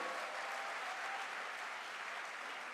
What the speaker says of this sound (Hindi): तो जोरदार तालियां एक बार बजाइए।